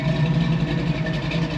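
A hot rod car engine with a mild camshaft and tuned timing idles steadily through its exhaust, a close, continuous low rumble with a faint lope and no voices.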